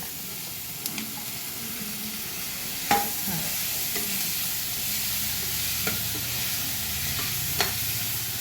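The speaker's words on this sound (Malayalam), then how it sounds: "അപ്പോൾ ഇത് നല്ല വഴറ്റി കിട്ടിയിട്ടുണ്ട് കേട്ടോ. ഇതാ തക്കാളി ഇടുന്നുണ്ട്." Spoon stirring through a fish curry masala as tomatoes go into the pan, with a steady sizzle and a few sharp scrapes and clinks against the vessel, heard alone.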